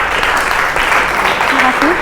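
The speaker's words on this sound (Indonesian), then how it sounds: "Untuk kasih tepuk tangan dulu untuk Dani Setiawan." Classroom applause for a student in an Indonesian language lesson, a steady, dense wash of many hands clapping close by, with faint voices mixed in.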